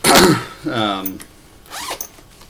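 The zipper on a backpack's back pocket is pulled in a few quick, rasping strokes up close, with a person speaking between the pulls.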